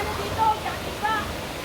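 A strong rushing current from a flooded creek in North Caloocan during Typhoon Carina: a broad, steady roar of water heard close by, with faint high whistling tones above it.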